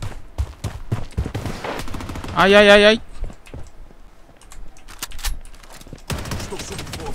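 Rapid gunfire in the first-person shooter Blood Strike: bursts of sharp shots scattered through the clip, with footsteps and a player's vocal exclamations layered on top.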